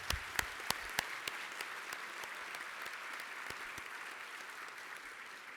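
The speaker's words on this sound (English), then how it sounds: "Let's give another round of applause for Judge Michelle Sheehan and Stacey McKinl" A round of applause at a law alumni recognition luncheon, steady crowd clapping at moderate distance with a few sharp nearer claps at the start, continuing evenly with no voices.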